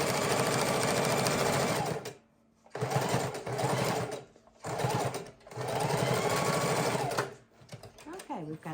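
A sewing machine lock stitching with white thread runs in three loud, steady bursts separated by short pauses, with people talking faintly around it.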